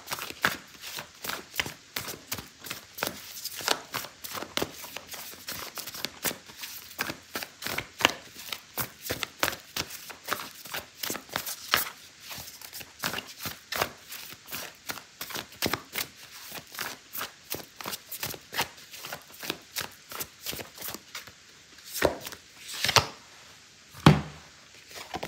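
Oracle cards being shuffled for a tarot reading, a long run of close, crisp riffling and slapping taps in an irregular rhythm, with no talk over them.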